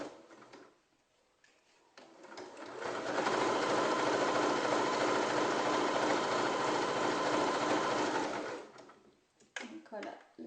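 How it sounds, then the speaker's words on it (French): A domestic sewing machine stitches layers of fabric for cloth face masks at an artisan seamstress's workbench, running in one loud, steady whirring burst of several seconds, framed by brief handling sounds. "Vous pouvez aussi rallonger votre point et jouer des fois sur la tension aussi de votre machine."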